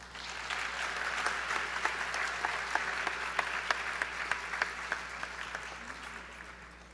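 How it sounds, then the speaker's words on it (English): An audience applauds after the introduction at a Bharatanatyam arangetram, a moderately sized crowd clapping steadily, swelling then gradually thinning out, a few sharp individual claps standing out near the end. "a round of applause for Vidhi CHALLANI."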